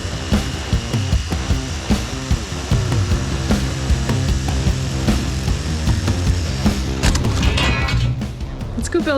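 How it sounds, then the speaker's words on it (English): A jigsaw fitted with a fine finish wood blade cuts through wood during a trailer remodel: a loud, continuous buzzing rasp with a rapid reciprocating pulse that changes near the end as the cut finishes. "We're gonna use the fine finish wood blade for the jigsaw for this job."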